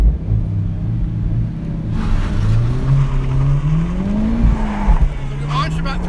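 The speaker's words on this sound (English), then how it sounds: "So we'll see if we can get all 306 horsepower to the ground here during an autocross run." A 306-horsepower Honda Civic Type R accelerates hard on an autocross run, its engine note climbing steadily as tires squeal and rumble, loud and close, while a person speaks over the engine.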